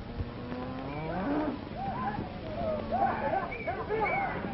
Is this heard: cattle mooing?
yes